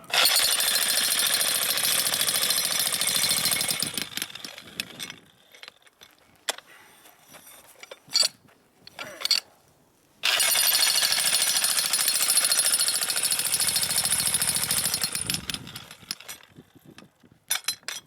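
A Hitachi H85 demolition hammer chisels into hard decomposed granite while digging a gate hole, its loud rapid hammering running in two long bursts with scraping and clinking of tools between them.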